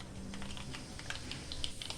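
Spice seeds for tempering crackle and pop in hot oil while lemon pickle is made, a dense run of sharp, quick clicks, fairly close, with no voices.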